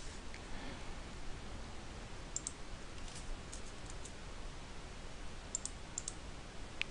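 Light, quick keystrokes on a computer keyboard, a few faint clicks scattered over a quiet background hiss.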